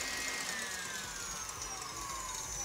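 An electric stand mixer beating cake batter with flour and butter, turned down to a lower speed, a steady continuous whirring hum with a slowly falling motor whine, faint and even throughout.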